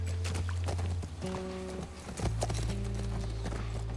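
Rhythmic hoof clip-clops of a horse in The Last of Us Part 1, close and steady, over a low droning background tone.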